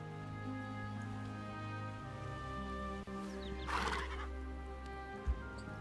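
A horse in the video game Hytale gives a short, bright whinny over a steady musical game soundtrack, followed a moment later by a single soft thud; there is no talk.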